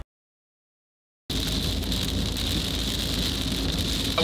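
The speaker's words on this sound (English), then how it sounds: "it's absolutely pouring with rain" Heavy rain pours steadily during a thunderstorm in southern Norway, a dense, continuous hiss that starts abruptly after a brief silence.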